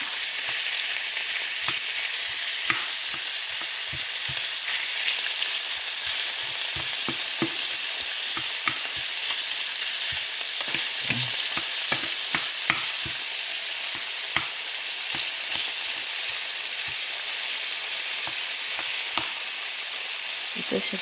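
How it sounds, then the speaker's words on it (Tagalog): Loud, steady sizzling of beef strips frying in a hot pan for steak tacos, with occasional pops and scraping stirs, no talking. "Prito lang natin siya guys."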